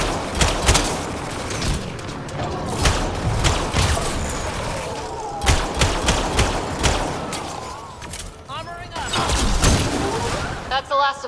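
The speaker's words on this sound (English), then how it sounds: "What are they shooting at us for?" Enemy gunfire in Mass Effect Andromeda, with repeated sharp bursts and heavy thumps scattered through dense game combat noise, loud and close, with voices talking over parts of it.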